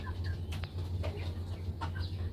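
Native chickens in a rooftop coop give soft, scattered clucks and chirps over a constant low hum, with no one speaking.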